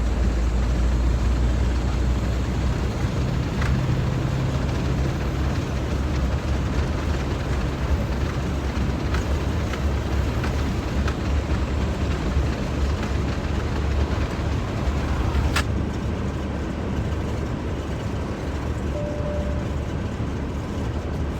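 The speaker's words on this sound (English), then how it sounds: "Get it up to highway speed here." A bus accelerates from a stop up to highway speed on a test drive, its steady engine and road rumble holding loud and continuous throughout with no voices.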